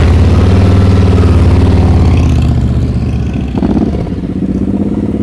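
Motorcycle engine running steadily during slow-speed riding practice, a close, continuous mid-pitched drone with slight rises and dips in revs, heard alone without talk.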